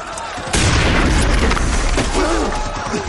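Heavy gunfire and booming blasts fill a World War I battle scene at Passchendaele. After a brief lead-in, dense, loud, continuous fire sets in and holds to the end, with shouting buried in the din.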